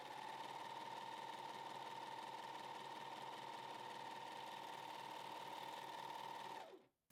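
A Janome 1100D serger stitches stretch Ponte knit fabric, its motor running in a steady, even high-pitched whir before winding down and stopping at the end.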